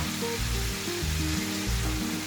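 Homemade tomato sauce poured into a hot pan with garlic-sautéed meat for an eggplant stew, giving a steady close sizzle and frying hiss with low bubbling beneath, no voices.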